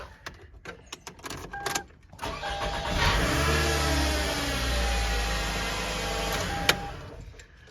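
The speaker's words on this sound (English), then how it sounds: "Just listen to this transmission. It sounds ridiculous, like it's dying." A 2002 Toyota Camry 2.4 engine turns over and idles roughly with a steady droning whine and rattle from a failing transmission, close by, with a few clicks before it starts.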